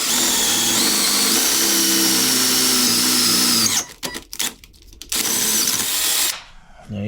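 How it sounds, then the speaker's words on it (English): A power drill with a dull bit whines steadily, then bogs and stutters in uneven bursts as it bites through a 3/8-inch hole, before stopping. "These bolts are calling for a 3/8 hole, so I'll get that drilled."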